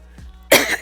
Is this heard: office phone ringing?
no